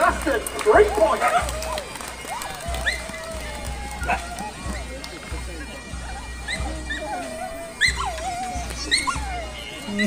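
Dogs barking, yipping and whimpering while running at a Celtic festival, with repeated yelps scattered throughout over a steady background of crowd noise and talk.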